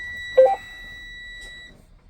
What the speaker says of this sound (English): My headlights are still on, that's why it's beeping.